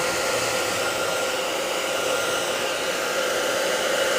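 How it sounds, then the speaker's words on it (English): A heat gun drying watercolor paint whirs loudly and evenly throughout, a constant airy drone with no speech. "Santa bought me a heat gun for Christmas."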